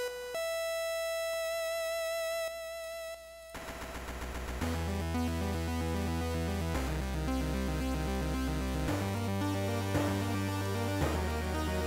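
Bright chiptune music with square-wave synth tones, starting with sustained beeps, then a full, buzzy melody over pulsing bass notes that change pitch in steps.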